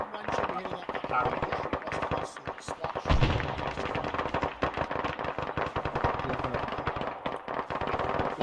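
Gunfire during a military field training exercise, with dense rapid shots cracking continuously, some near and loud, others further off, and voices talking over the shooting.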